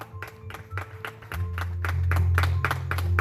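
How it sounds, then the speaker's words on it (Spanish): A church congregation claps in praise to God, with sharp rhythmic clapping in a steady beat over a sustained low organ or bass drone that swells partway through. "Dele palmas a Dios."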